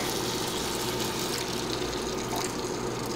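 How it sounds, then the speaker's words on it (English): Half a cup of water is poured into a pan of ackee and tofu, giving a short, steady pouring and splashing sound close by, with no talk. "And then I'm gonna add my half a cup of water."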